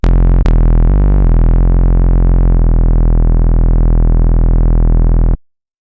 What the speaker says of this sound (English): overdrive